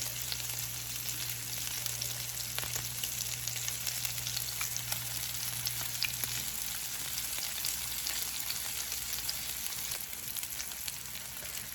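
Shrimp sizzle in a hot pan in a steady, even hiss that continues through the whole stretch, with no voices.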